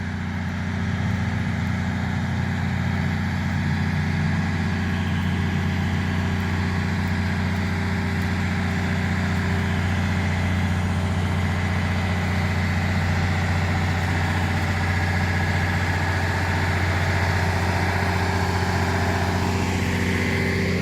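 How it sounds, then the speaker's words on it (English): A loud generator running outside an abandoned Walmart, a steady low droning engine hum that holds close and constant throughout. "it's pretty loud, that generator that they got going on right there, that green box"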